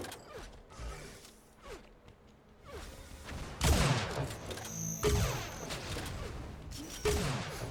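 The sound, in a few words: weapon shots in video game Unreal Tournament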